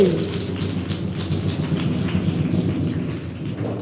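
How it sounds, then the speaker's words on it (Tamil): Heavy rain pours steadily with deep thunder rumbling underneath, a loud continuous downpour close by with no voices. "இங்க ஒரு பெரிய மழையே பேஞ்சுக்கிட்டு இருக்கு."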